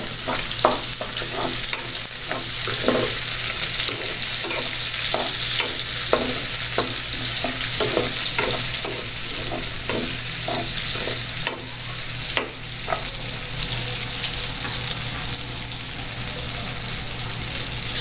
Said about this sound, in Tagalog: lagay na natin yung bawang